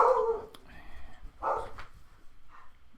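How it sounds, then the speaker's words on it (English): A dog barks indoors, with a few sharp, mid-pitched barks spaced across a few seconds, loud at first and then fainter, with low background noise between them. "A random dog bark."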